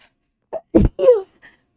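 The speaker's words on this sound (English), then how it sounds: "Oh, I gotta sneeze." A single sneeze with a short intake before it and a breathy trailing sound after, close and fairly loud, with no talking.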